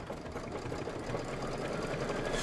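Embroidery machine stitching out chenille basting stitches, a brief, steady, rapid mechanical whir heard up close and unbroken, with no voices.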